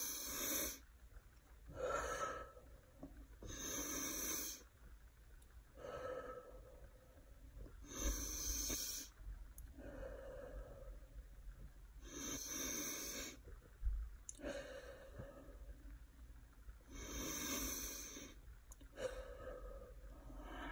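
Slow, deep breaths drawn in a belly-breathing exercise, each long inhale and exhale rising and falling in a steady rhythm with a slightly snoring, raspy quality, close and fairly faint.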